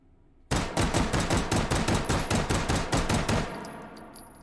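A Beretta M9A3 pistol fitted with a stock fires about fourteen rapid, evenly spaced shots in the H3VR game, loud and close, with no talk.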